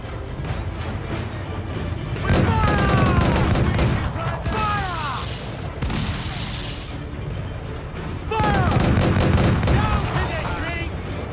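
Cannon fire from a pirate ship battle in Assassin's Creed IV Black Flag, loud booming volleys in two main bursts with crackling impacts, over constant sea and combat noise, with voices talking in between.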